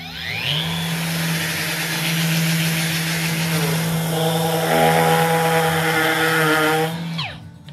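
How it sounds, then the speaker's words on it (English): Two sanders, a 3M Xtract and a Festool EC 150, run in a head-to-head sanding test, giving a steady, close electric whir with abrasive grinding that holds for about seven seconds before cutting off. "Let's put them head to head and sand some stuff."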